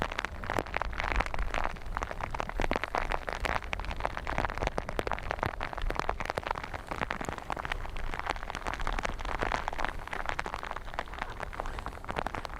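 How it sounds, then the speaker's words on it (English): Heavy rain falls at Dublin Airport, a steady dense patter on surfaces close by that carries evenly from start to finish with no talk. "Rain sounds 10 out of 10."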